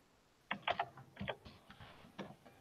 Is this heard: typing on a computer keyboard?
yes